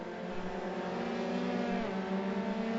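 Engines of race cars overtaking at a British Grand Prix in a racing video game, a steady layered whine of several cars holding close and even in loudness, with no voices over it.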